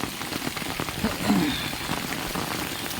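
Heavy rain pours down steadily outdoors near a tree, with a dense, continuous patter on surfaces and a brief louder swell in the middle, no voices.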